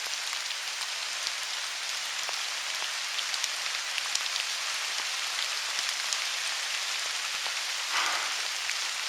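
Steady rain falls outdoors in the woods, a dense constant hiss of drops with scattered sharper patters throughout.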